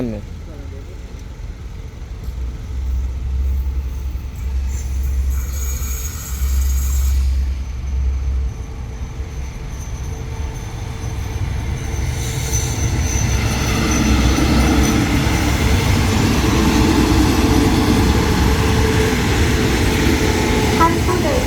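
Special express train 43 pulls into Ban Pong station in Thailand: a continuous rumble of wheels and rail noise that builds louder over twenty seconds, with faint squeals and background voices.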